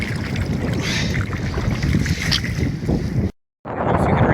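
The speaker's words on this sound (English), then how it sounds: "It is really windy." Strong wind roars and buffets the microphone while a kayak is paddled along a river, a steady loud rushing that cuts out briefly near the end before resuming.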